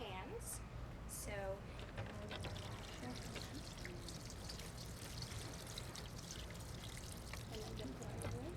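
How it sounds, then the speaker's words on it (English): Water pours steadily over hands being washed during a mother blessing ceremony, a soft continuous trickle running beneath ongoing speech. "first I'd like to wash your hands"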